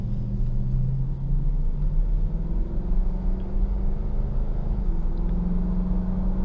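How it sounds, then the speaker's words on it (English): Cabin drone of a 2019 Toyota Tundra SR5 pickup truck engine while driving, a steady low rumble with a gently rising and falling engine tone, heard from inside without speech. "You do hear the engine very well."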